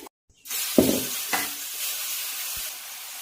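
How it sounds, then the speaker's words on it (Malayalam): Sesame oil poured onto a hot dosa griddle, with a sharp sizzle bursting up after a brief silence, then a second flare and a steady close crackle fading slowly, with no talking. "നമുക്ക് കുറച്ച് നല്ലെണ്ണ മൊയ്ത് ഒഴിച്ചു കൊടുക്കണം."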